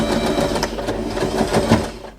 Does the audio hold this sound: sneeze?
no